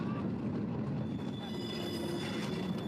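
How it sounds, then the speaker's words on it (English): A train rolls steadily on the rails while crossing into Tabasco State in Mexico. The wheels give a continuous high squeal over a low rumbling drone, heard from on board. "The train crosses into Tabasco State."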